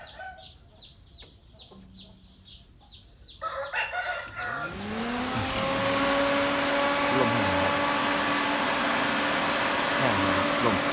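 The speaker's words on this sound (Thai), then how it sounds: "ผมจะเปิดให้เบิ่งตอนนี้กันเลยครับพัดลม" Electric cooling fan fitted to a New Holland tractor switches on and spins up after a few seconds of chickens clucking nearby, settling into a steady loud whirring hum that continues to the end.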